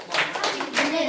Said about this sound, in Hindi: जोरदार ताली बच्चे की।